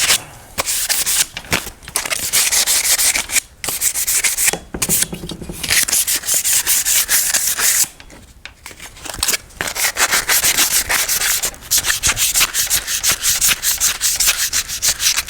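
A piece of a Midway Pac-Man Cabaret mini arcade cabinet is being sanded by hand to roughen it. Close, raspy back-and-forth strokes come in bursts with brief pauses between them, and no one speaks.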